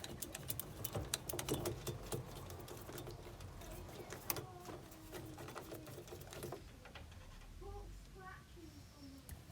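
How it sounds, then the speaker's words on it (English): Screws come out of a boiler's plate heat exchanger with a rapid, close whirring of a powered driver in quick bursts, followed by faint clicks and a brief quiet voice. "remove the 2 screws, left and right, and that releases the plate heat exchanger from the back of the hydraulic block"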